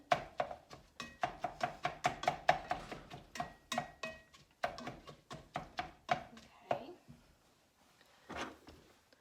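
Knife chopping carrots on a cutting board in a home kitchen, a fast run of crisp, even taps that slows and thins into a few scattered cuts, with faint talk nearby.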